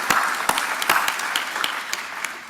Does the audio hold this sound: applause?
yes